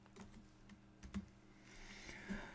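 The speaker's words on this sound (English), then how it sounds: "Type 90 degrees, enter." A handful of light, close keystrokes on a computer keyboard, entering a 90-degree value in a woodworking design program for a Shaker stool, spaced irregularly with a couple of sharper taps, quiet and alone.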